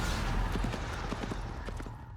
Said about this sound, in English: Okay, some horse hooves